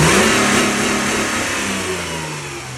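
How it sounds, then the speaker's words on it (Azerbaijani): A Mercedes W210 car engine revving under throttle, a loud, close, sustained roar that slowly eases in pitch and volume across the few seconds, with no voices. "Yəni qaz da verək, qazdan sonra görək özü necə göstərir"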